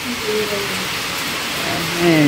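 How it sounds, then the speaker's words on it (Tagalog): Heavy rain pours in a dense, constant hiss on a damaged roof, loud and close, with faint voices murmuring underneath. "Lakas ng ulan"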